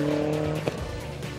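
A rally production car driven by Marcos Ligato at the 2004 WRC Argentina shakedown passes close by with a brief engine note and tyre noise, heard over steady background noise.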